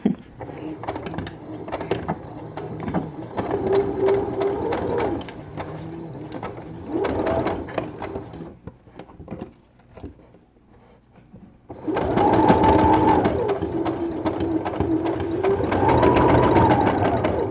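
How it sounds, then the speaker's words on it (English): Sewing machine stitching stretchy silk for a neck scarf: bursts of rapid, rhythmic mechanical whirring start and stop with the pedal, with quiet pauses between runs and a louder, longer run near the end. "I generally like to sew without shoes on so I can feel the actual pedal under my feet."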